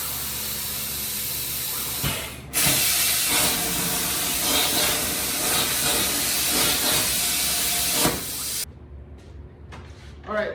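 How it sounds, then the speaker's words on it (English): A plasma cutter slices an eighth-inch steel plate with a loud, steady hiss that starts abruptly, holds for about six seconds with faint crackles, then cuts off to near quiet. "And then I'm gonna cut this out on the plasma cutter."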